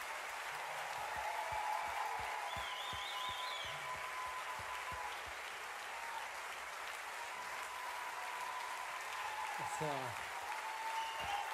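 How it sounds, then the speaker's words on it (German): Steady crowd applause and clapping for the band at a concert, fairly distant, with a voice speaking briefly over it and some cheering. "Applaus für meine Band."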